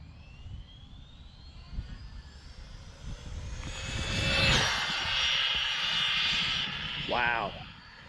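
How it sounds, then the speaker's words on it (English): An Arrma Limitless RC car makes its first high-speed run, reaching over 100 mph. A thin motor whine climbs and builds into a loud, close rush at mid-clip, then fades. A brief voice sounds near the end. "Arrma Limitless, first run."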